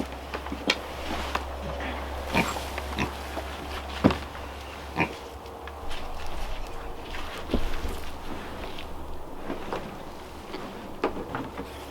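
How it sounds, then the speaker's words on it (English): A pig on a backyard homestead grunts and oinks on and off over a steady low hum, mixed with scattered knocks and shuffling footsteps. "Good work, Princess Pig."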